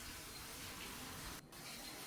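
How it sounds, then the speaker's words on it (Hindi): Starchy water drains from a pot of cooked rice, a continuous close gush of pouring liquid with one brief dip, alone without talk. "चावल भी मैं यहाँ अपना चावल का पानी पसा दे रही हूँ।"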